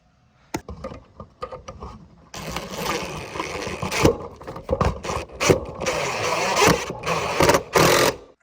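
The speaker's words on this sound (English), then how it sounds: "And screw it in with these screws in those holes." Power drill driving screws into sheetrock during a hall bathroom remodel, heard as several loud whirring bursts of varying length that start and stop in close succession, nearby and without talk.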